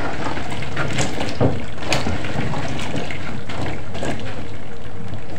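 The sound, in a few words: water poured over okra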